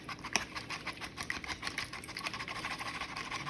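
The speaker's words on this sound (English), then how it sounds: "just a good whisk" Raw runny eggs whisked in a bowl, a quick irregular patter of clicks and taps from the whisk against the bowl, close and steady for a few seconds.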